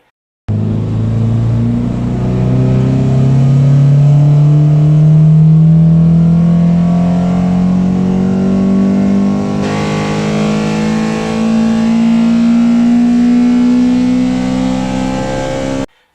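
A car engine revs steadily upward in pitch for several seconds, loud and close, a continuous rising drone as it pulls through the gears.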